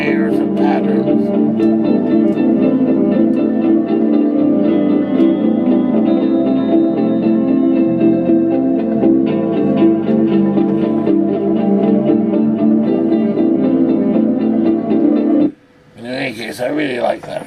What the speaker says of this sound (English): I hear some backwards guitar there